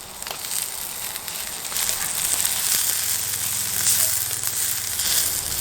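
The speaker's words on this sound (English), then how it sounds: "once everything is hot, we're going to dunk in the onions" Onions sizzle and fry on a hot rock over a campfire, giving a steady, close crackling hiss that swells slightly toward the end, with no voices.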